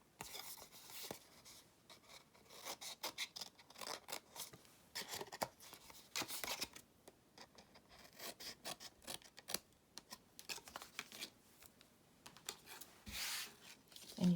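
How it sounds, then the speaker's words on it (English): Scissors trimming the edges of paper flaps at a slight angle for a Christmas lantern treat box, with repeated crisp snips and light rustling of paper close by, no talk. "I then will just trim off the edge on each one of these flaps at a slight angle"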